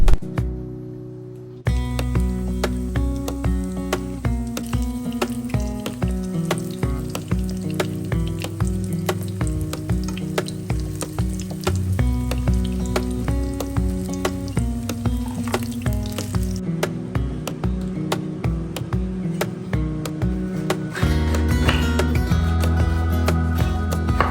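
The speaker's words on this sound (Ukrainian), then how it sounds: "беремо скибочки кабачків е, в муку, в яйце і кладемо смажити" Steady sizzling of floured, egg-dipped zucchini slices frying in hot oil, continuous and close, with crackling pops throughout and no talking.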